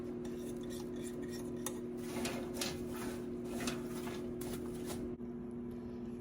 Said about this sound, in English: Mix it up, whisk it around.